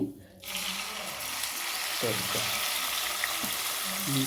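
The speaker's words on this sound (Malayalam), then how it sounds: "ഇനി ഇത് ആദ്യം ഫ്രൈ ചെയ്തെടുക്കുക" Squid hits very hot coconut oil in a pan and bursts into loud, steady sizzling and spitting that continues throughout, with a brief low voice underneath.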